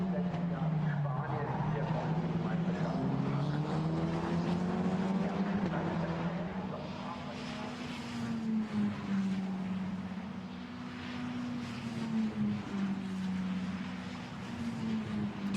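A Formula Renault Eurocup single-seater at the Nürburgring during qualifying, its high engine note rising and holding steadily through the run, heard at a distance under continuous commentary.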